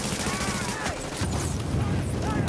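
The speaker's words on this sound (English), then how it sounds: "Grenade!" A grenade explosion in The Division lands amid ongoing gunfire, giving a loud booming burst mixed with scattered shots and clattering debris, close and dense.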